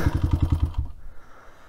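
Cheap $500 dirt bike engine revving on trails, a loud pulsing run of rapid firing beats for under a second before cutting off into quiet rustling.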